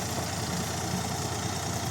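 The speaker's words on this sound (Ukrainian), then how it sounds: "вже трактор під'їхав під самий край" A tractor engine idles at the edge of a field during a pumpkin harvest, a steady low rumbling drone heard up close throughout with no talk over it.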